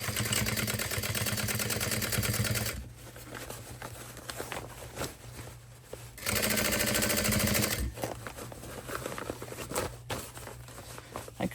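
Sewing machine stitching a mini tote bag, two close bursts of rapid whirring stitching separated by a quieter stretch of fabric handling, clicks and light tapping.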